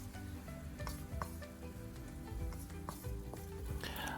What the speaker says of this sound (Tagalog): Igigisa natin ang peanut butter para lalong lumabas ang kanyang kakaibang lasa.